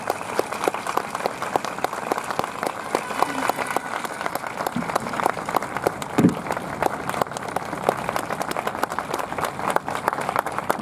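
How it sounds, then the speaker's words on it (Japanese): An audience at a Gamba Osaka talk show gives sustained applause for guest Akira Nishino, former Gamba Osaka manager and Japan national team coach, a dense even clapping that runs the whole time without speech. "もう一度大きな拍手をお願いいたします。"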